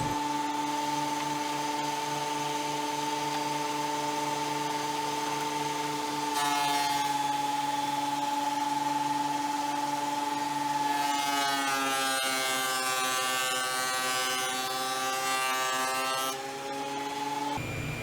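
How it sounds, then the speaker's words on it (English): A wood planer running boards through to thickness, a steady loud whining drone with strong harmonic tones that hold for the whole stretch, shifting pitch as the boards feed through, with no talk. "now we're at the planer to run them through and clean up the other face and get them down to thickness"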